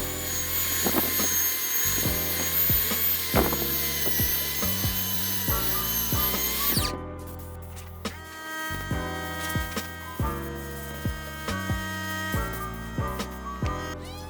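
Belt sander working a wooden farmhouse tabletop with dried epoxy fill: a steady high whining motor drone that cuts off partway, followed by intermittent bumps and short pulses of the machine against the wood.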